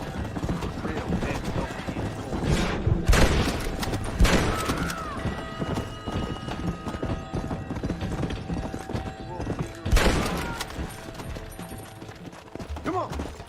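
A horse gallops with rapid, continuous clip-clop hoofbeats in Red Dead Redemption, with occasional whinnies and thuds, while a player shouts in the background.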